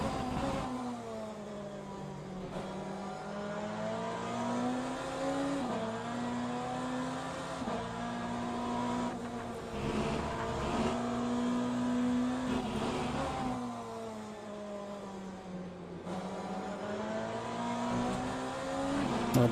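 A Porsche race car in Le Mans Ultimate at Bahrain: an engine note rising and falling steadily through gear changes, with sustained revving and repeated shifts, loud and continuous with no talk.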